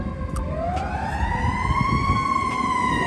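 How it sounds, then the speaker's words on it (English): A fire truck siren on a city street sweeps slowly upward and holds a steady wailing tone, moderately loud over a rumbling traffic background. "There's always like a fire truck or like police sirens"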